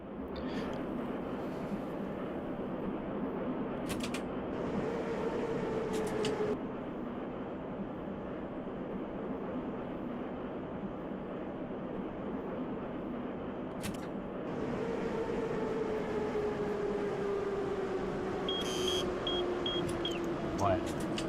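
An old Russian metro train running in Metro Simulator 2: a steady low rumble with an electric motor whine that rises and falls, and a few brief clicks along the way.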